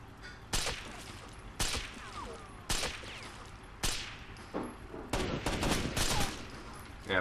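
Single 7.62 rifle shots fire in the video game Rainbow Six Vegas 2: about seven sharp, loud reports spaced roughly a second apart, some quickly doubled, over low game ambience.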